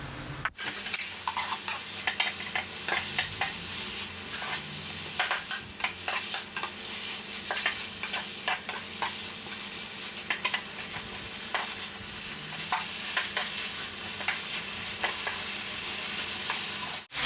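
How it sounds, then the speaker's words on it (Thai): Pork with red curry paste and pickled bamboo shoots being stir-fried in a wok, a loud constant sizzle under rapid, irregular scraping and clanks of a spatula, close and continuous without speech. "จากนั้นผัดต่อจนเครื่องปรุงเข้ากันนะครับ"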